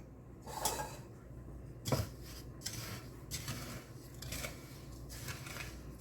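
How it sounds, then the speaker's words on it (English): Spoon scraping and clinking in a bowl while melted butter is mixed into sweet potato pie filling, a few sharp knocks followed by steady rubbing and stirring at close range. "We're just going to mix this until it comes together like this."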